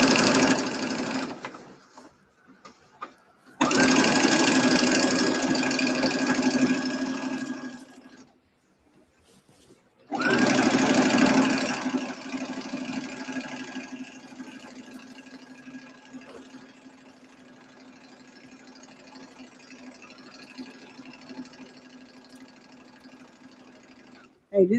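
A sewing machine stitches in bursts at turbo speed while a quilted tote is made, giving a loud, steady mechanical whir that stops twice for short pauses and then fades to a quieter running hum.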